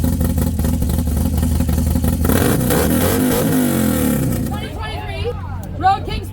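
A Harley-Davidson motorcycle with a stage 2 M8 engine, 585 cam, 10.5:1 compression and a 2-into-1 exhaust rumbles loudly and revs up and down nearby, then eases off as people talk over it.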